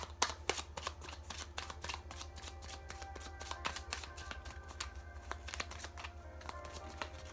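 Oracle cards from a Pure Love Energy deck are shuffled in a quick, steady stream of soft riffling clicks and flutters, close and fairly quiet, with a low steady hum underneath.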